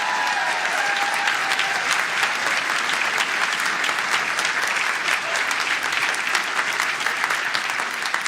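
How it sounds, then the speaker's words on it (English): Rally audience in Concord, New Hampshire applauding veterans, dense sustained clapping from a large crowd, steady and loud throughout. "Let's give them a big round of applause today."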